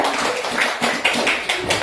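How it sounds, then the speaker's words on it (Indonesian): Classroom of students clapping for a classmate, a quick burst of many close hand claps with uneven rhythm and a few louder individual claps, lasting just under two seconds. "Tepuk tangan untuk Fadil."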